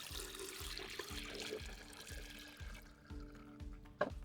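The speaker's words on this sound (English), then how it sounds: "Screw the lid back on and then soak the filter in water for 5 minutes." A water purifier filter soaks in a container, with gentle pouring and trickling water under a steady low repeating hum, fairly quiet and close.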